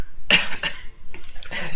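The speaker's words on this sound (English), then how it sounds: "I'll try not to cough into my microphone." A few close coughs in quick succession, sharp and fairly loud, with brief pauses between them.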